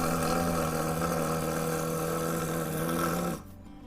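A person imitates a rough, throaty snore while practising the rolled-R tongue trill. The steady, buzzing rattle is held for about three seconds and then stops abruptly.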